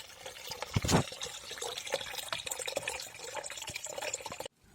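Water sloshes and splashes steadily while flushing the cooling system of an Audi A6 C4 2.5 TDI, with gurgling bursts and a brief louder gush near the start, ending abruptly.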